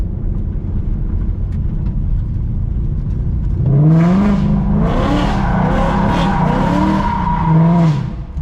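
A loud car engine roars while tires squeal in long wavering screeches as the car drifts, the drift sound kicking in midway and sustaining to the end.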